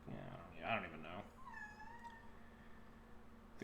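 A cat meows once in the background during a card-game session, a rising tonal call that stands apart under ongoing speech and low background hum.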